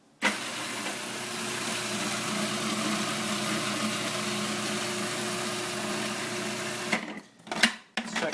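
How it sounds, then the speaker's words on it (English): Food processor whirring steadily as it roughly chops hearts of palm, a continuous motor drone for about seven seconds that stops abruptly, followed by a few short clunks and knocks. "I like the way it comes out in the food processor. So we're going to give this a nice rough chop."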